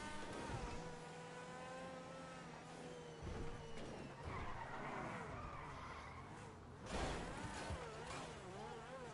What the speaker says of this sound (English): You hear how it sounds like a formula car though?